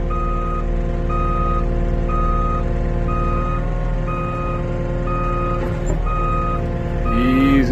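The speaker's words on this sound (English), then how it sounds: "there goes Dad's going to move his truck" A truck at a subdivision logging site reverses with a steady series of loud, evenly spaced backup beeps over a constant diesel engine drone, ending with a brief hiss.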